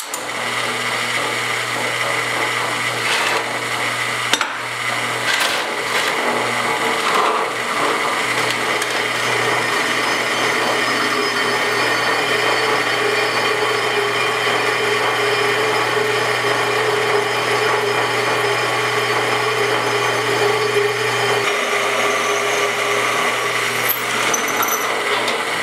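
A power drill bores holes through the sheet-metal door pillar of a 1972 Ford pickup, a steady, loud whirring drone that runs for about twenty seconds with a few brief catches and then a slight change in pitch near the end.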